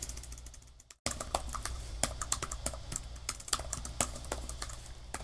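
Computer keyboard typing with rapid, irregular clicks and clacks of keys, close and steady, after a brief silent gap near the start; no voices.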